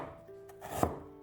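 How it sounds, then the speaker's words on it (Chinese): A knife cuts half a piece of fresh ginger into thin slices on a board, with one sharp, close chop standing out after a few softer taps and scrapes. "半块生姜先切成薄片"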